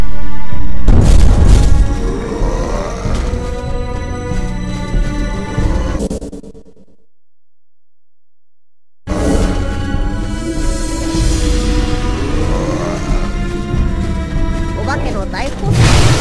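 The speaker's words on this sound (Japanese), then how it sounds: "大砲だな。" Cannon fire and heavy explosions from the Berserk Millennium Falcon video game boom densely and loudly, with character voices over them, cut by a brief silence before the barrage resumes.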